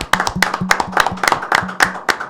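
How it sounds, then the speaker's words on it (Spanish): Young men in a church service clap loudly in a steady, rhythmic pattern of sharp, close hand claps, about four per second, over a low pulsing beat. "queremos que los muchachos que están aquí conmigo suelten un fuerte aplauso"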